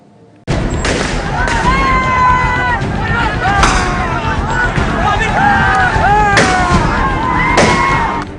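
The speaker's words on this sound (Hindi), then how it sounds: "सड़क पर ऐसे फायरिंग हो रही है जैसे यहाँ कानून नाम की कोई चीज ही नहीं है" Celebratory gunfire rings out on a street in Shamli after a local election win, repeated sharp bangs scattered over a noisy crowd with shouting voices throughout.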